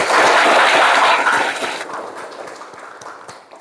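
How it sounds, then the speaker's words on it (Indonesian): Students in a classroom clap for their classmates: a loud burst of dense applause that thins out and fades into scattered individual claps by the end. "Tepuk tangan dulu untuk rekan-rekan kalian."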